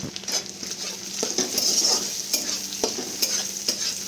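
Onion, tomato and slit green chillies sizzle in a pan for a mushroom masala, a steady close frying hiss broken by repeated scraping and clinking stirs of a spoon against the metal.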